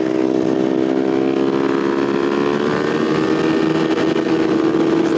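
A Kawasaki Ninja motorcycle engine holds a loud, steady, buzzing drone close by, with its pitch rising gradually as the bike accelerates.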